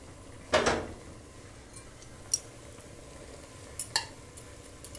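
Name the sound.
ground beef picadillo being stirred and broken apart in pan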